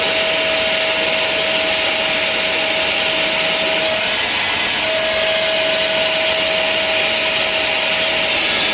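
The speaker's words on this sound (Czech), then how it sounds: "Snažím se z toho vysát ten bordel, co to blokuje. Jestli se to povede, možná na to ten vysavač bude mít" A vacuum cleaner runs steadily and loudly while sucking debris out of a blocked, foul-smelling drain pipe, a continuous broadband roar with a faint whine and no talk.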